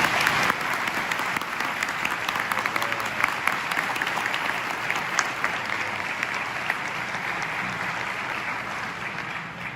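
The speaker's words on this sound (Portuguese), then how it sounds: "Gostaria de uma salva de palmas para vocês." Audience at a lecture in a naval college hall clapping for sailors of an expedition, dense sustained applause from many hands at steady volume throughout.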